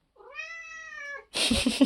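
A cat gives one drawn-out meow in a home setting. It is clear and fairly close, and is followed at once by a burst of louder, noisier rustling and handling sounds.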